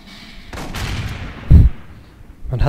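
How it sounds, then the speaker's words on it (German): An explosion in the sci-fi shooter Aliens: Colonial Marines sounds as a single deep, heavy boom over a low rumbling game backdrop, with a softer crack before it and another burst starting at the end. "Man hat zwar eine Explosion gehört"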